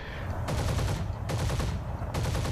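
Heavy aircraft cannon in the War Thunder flight game hammering out three long, loud bursts in quick succession, each a dense rattle of rapid shots with brief gaps between.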